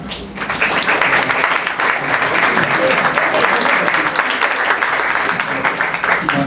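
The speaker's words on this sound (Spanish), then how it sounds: "Margarita Zavala, Alfonso Ceballos, para los que pido un aplauso, por favor." An audience at a book presentation bursts into sustained, dense applause, loud and close, steady for several seconds before easing slightly at the end.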